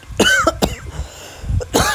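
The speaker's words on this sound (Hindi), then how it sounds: "एकदम से खांसी आ गया यार" A man coughs in several short bursts, close by and loud, with a brief pause before a final cough.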